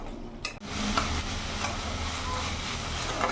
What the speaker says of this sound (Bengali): মশলাটা একটু কষিয়ে নেব যাতে কাঁচা গন্ধটা চলে যায়